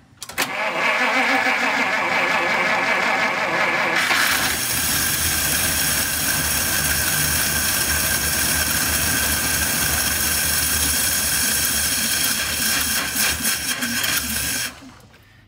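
A classic car engine that had sat unused for a long time, with its fuel pump on, cranks briefly, then catches and runs loud and steady for about ten seconds before cutting off, with no talk.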